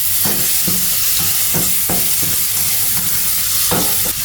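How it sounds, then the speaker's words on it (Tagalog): Carrots fry in a little cooking oil for a Chinese noodle dish, giving a loud, steady sizzle with periodic stirring scrapes across the pan. "Kasi prituhin natin tong carrots."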